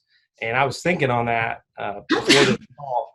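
Sneeze during a leadership podcast call, a single loud burst near the end of a man's sentence, close and mixed in with speech.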